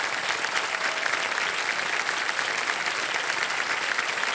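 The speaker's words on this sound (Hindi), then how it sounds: "तालियां बजती रहें इनके लिए।" A studio audience on a TV quiz show applauds steadily and loudly for a contestant who has just won a prize, with dense, sustained clapping throughout and no voices standing out.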